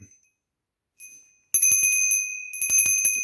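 A small brass sanctuary bell with its original clapper, shaken after a brief pause into a burst of bright, ringing strikes that repeat rapidly and overlap, loud and close.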